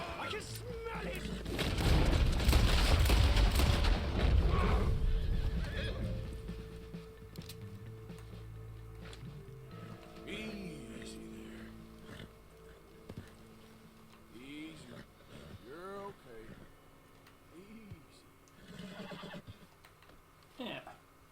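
A riled-up horse in Red Dead Redemption 2 lets out agitated whinnies and snorts amid loud rustling and movement, then settles into quieter intermittent calls and faint game sounds.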